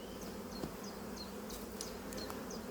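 Honeybees hum at a hive, a faint, steady buzzing that fills the background, with a few short, high chirps scattered over it.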